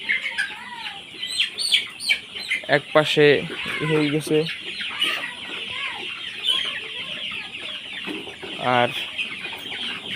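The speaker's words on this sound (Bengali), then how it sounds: "দেখেন ছোটো মুরগিগুলো" Young Sonali chickens cluck and chatter nearby in a farm pen, with a few sharper squawks rising above the flock while someone talks over them.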